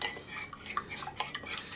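A utensil stirring a desert hackberry and mesquite mixture in a container, with quick irregular clinks and scrapes spread across a short stretch, fairly close and without talk.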